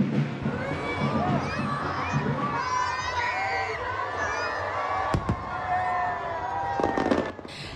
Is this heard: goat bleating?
no